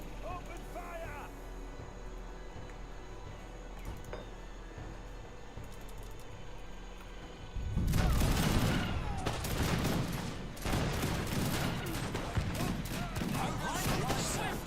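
Infantry regiment firing a rifle volley in Age of Empires 3: after a quieter stretch of background clatter and a voice, a dense burst of overlapping gunshots erupts and continues in a sustained crackling fusillade, loud and close.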